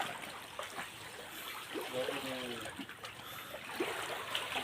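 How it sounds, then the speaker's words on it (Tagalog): A faint, steady trickle of water overflowing in open air on Isla Jardin del Mar, Glan, Sarangani Province, soft and continuous, with a brief murmur of voices partway through. "Naapawan ito ng tubig guys."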